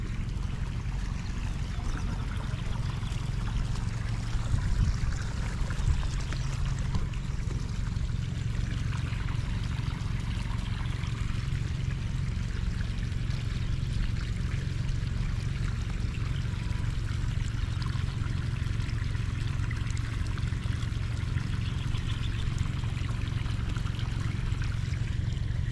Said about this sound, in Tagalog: Bilis ng tubig oh.